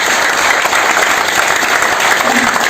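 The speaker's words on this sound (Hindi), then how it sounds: "एक बार रामकिशन सर के लिए तालियां बजा दो।" A crowd at a business network meeting in India claps loudly and continuously, dense applause from many people filling the whole moment with little else heard.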